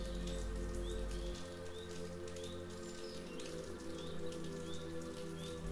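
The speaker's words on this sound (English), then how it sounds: "As you tune in to the soothing rain, notice how it blends with your breathing" Steady soft rain falls and patters on surfaces in an even, continuous wash, with faint bird chirps and calls scattered through it.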